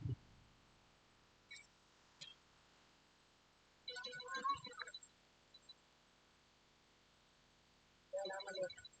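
A telephone rings during a live prize-draw broadcast, short electronic ringtone bursts repeating twice among a few isolated beeps, fairly faint in a quiet room.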